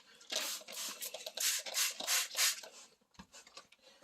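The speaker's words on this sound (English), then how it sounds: "The pad will put the pressure evenly on the lens when you're gonna sand." A pad rubs a car headlight lens by hand, making rhythmic, close, rasping sanding strokes in short bursts with brief pauses between them.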